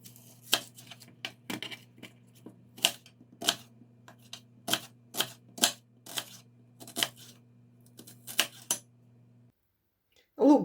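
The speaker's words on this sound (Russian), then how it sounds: "Давайте порежем лук." A knife chops an onion on a board in a run of about twenty crisp, fairly quiet strikes at an uneven pace. A faint steady hum sits underneath until the chopping stops.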